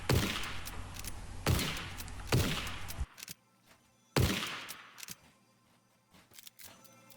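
Weapon fire in Fortnite, tested on a custom map as it blasts through a wall, comes in several heavy, sharp bursts separated by short pauses of near silence.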